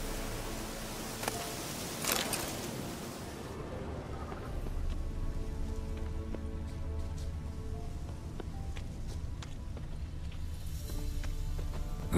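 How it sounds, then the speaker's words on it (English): Rain falling in the open world of the video game Witcher 3 Wild Hunt, a steady hiss of drops on surfaces running throughout, with a brief louder burst early and faint game sounds beneath. "Looks like rain."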